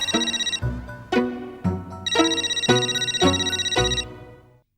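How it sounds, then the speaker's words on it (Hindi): A telephone rings late at night with an electronic melodic ringtone. Repeated bright tonal phrases play loudly and close for several seconds, then cut off, with no voices over it. "किसका फोन है?"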